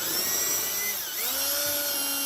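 A power drill driving a screw into the flange of a shower pan on a concrete slab, a short whirring burst whose pitch dips as the screw snugs up, close and alone.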